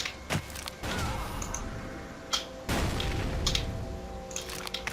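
Gunfire in the first-person shooter Ace of Spades: a few sharp shots and booms scattered across a busy, noisy game soundscape, fairly close, with no talking.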